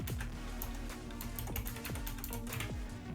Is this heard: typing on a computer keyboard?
yes